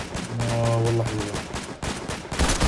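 Rapid bursts of gunfire from a shooter video game on a controller, dense and continuous throughout with a steady tonal game sound underneath, loud and close.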